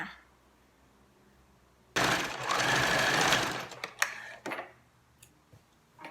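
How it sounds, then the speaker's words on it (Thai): A sewing machine stitching the outer seam of a camisole runs in one steady, close, whirring burst of about a second and a half. Scattered clicks and knocks of handling the fabric follow. "เมื่อเย็บด้านในเสร็จนะคะ ก็ให้เย็บด้านนอกอีกครั้งหนึ่งค่ะ"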